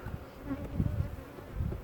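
Honeybees buzz around a colony in a steady, low, droning hum with gentle swells in loudness, close by and alone without any voices.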